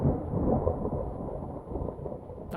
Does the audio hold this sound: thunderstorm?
yes